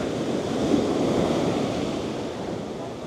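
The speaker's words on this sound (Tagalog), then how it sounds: "Ang lakas ang alon." Strong ocean surf at high tide on a Florida beach rolls in as a steady, loud wash of breaking waves mixed with wind buffeting the microphone.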